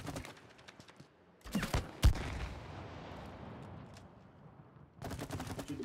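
Gunfire bursts in the co-op video game It Takes Two, a sharp volley of shots with a loud crack, then a quieter stretch before another rapid burst near the end.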